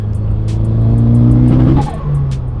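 A Mitsubishi Evo 8 engine revs loudly and steadily close by, then stumbles and cuts out briefly near the end before picking back up, the drop-out coming from the lean running fault.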